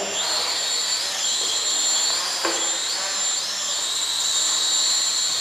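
A cheap racing drone buzzes continuously with a high whine through an obstacle course of tires, its pitch wavering up and down as it maneuvers, with one brief thump partway through.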